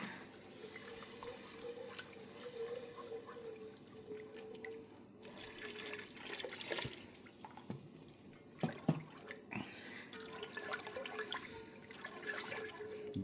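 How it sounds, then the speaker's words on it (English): Milk pours into a pot for a white lasagna sauce, a steady faint liquid stream with small drips and a few clinks of kitchen handling, alone in a quiet room. "And then I add a whole bunch of milk."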